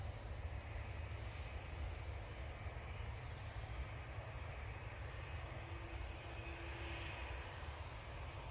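A Ryanair jet departing Manchester Airport gives a steady, distant broadband engine roar that holds evenly throughout, with no voices over it.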